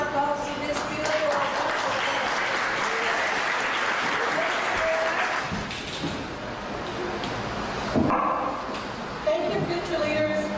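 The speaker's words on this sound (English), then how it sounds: "please give a round of applause to this beautiful" An audience at a leadership awards event claps in a steady, dense round of applause that continues for several seconds and then fades slightly near the end.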